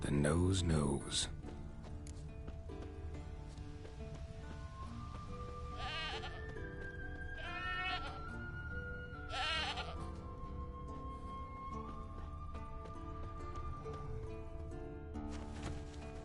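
A goat bleats several times in The Witcher 3, drawn-out wavering cries spaced over a low ambient game soundscape with music-like tones and a sharp sound at the start.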